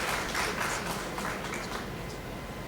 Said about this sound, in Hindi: तो जोरदार तालियां हो जाएं हमारे इग्नू के लिए।